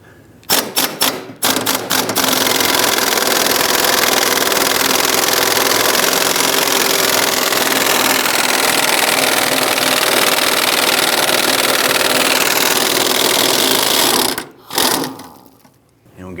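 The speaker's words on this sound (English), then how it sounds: "We're using an 18mm socket with our impact gun and extension." An impact gun with an 18mm socket and extension hammers loose the gas tank bolts on a 1999-2004 Jeep Grand Cherokee. A few short bursts come first, then a loud, continuous rattling run of about twelve seconds, then a brief final burst.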